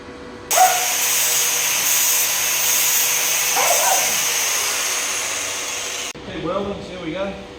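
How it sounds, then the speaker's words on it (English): Welding repairs on a 1996 Yamaha YZ250 motorcycle frame give a loud, steady crackling hiss lasting several seconds with a brief interruption midway, then stop abruptly, followed by a short stretch of talking. "Welding, so here we go."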